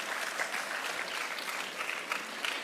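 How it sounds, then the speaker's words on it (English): An audience at a Gonzaga Day 2023 school program applauds its anchors with a steady, dense clapping that holds at an even level throughout. "Let's give them also a good clap."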